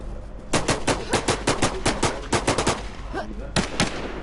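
Rapid bursts of gunfire in the video game WarZ, loud repeated shots in quick strings with a brief pause before a final burst, with players talking in the background.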